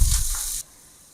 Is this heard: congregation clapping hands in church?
no